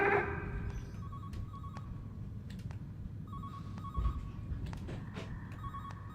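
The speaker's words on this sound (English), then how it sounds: "Oh, there's a phone going off." A telephone rings inside a house in the horror video game Calling, repeated electronic bell trills at a middle distance over a low ambient hum, with no one speaking.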